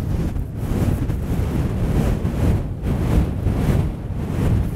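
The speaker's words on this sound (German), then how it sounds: "denn der Wind wird immer stärker." Strong, gusty wind buffets the microphone high up on a wind turbine, a continuous loud roaring rush with swelling gusts and no voices.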